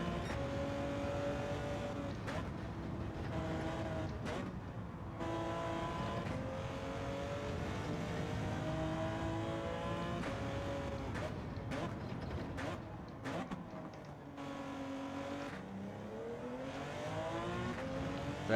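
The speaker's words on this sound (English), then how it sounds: "Very deliberate change down, you can hear it in the gearbox. Click clunk as we go up the gears." A Porsche 917K race car engine in Gran Turismo 7 at Sardegna Road A drones steadily and then revs, with distinct pitch drops and climbs as the gears shift down and up, under a commentator's voice.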